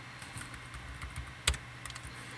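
Quiet keyboard typing while coding a Minecraft Bukkit plugin: a loose run of soft key clicks with one sharper, louder keystroke near the middle.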